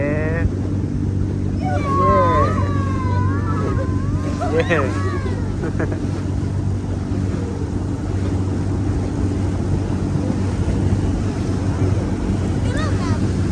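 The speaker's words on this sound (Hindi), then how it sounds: "ये लहरें जो जा रही है ना, ये वाली, ये ऊपर आती हैं फिर।" Motorboat ride across Khanpur Dam: a steady low engine drone under wind buffeting and the wash of waves against the hull, with brief voices early on.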